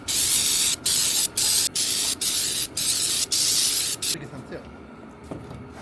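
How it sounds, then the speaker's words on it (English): Carb cleaner sprayed over a Jeep engine in a rapid string of about seven close hissing bursts with short pauses between them, then the spraying stops. "Carb cleaner. I'm spraying everything because why not?"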